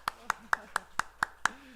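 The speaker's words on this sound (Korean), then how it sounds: "박수 한번 합시다" Seven sharp, evenly spaced claps ring out in a church service, crisp and close with a quiet room between them, like a single person or small group clapping in time.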